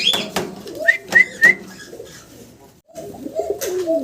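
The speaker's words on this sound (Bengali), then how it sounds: "খুব সুন্দর অ্যাক্টিভ একটা জোড়া চমৎকার ডাকাটাই করতেছে" A pair of fancy pigeons coo in several short, rising and falling calls, close by and fairly loud, with a brief pause before a final round of cooing.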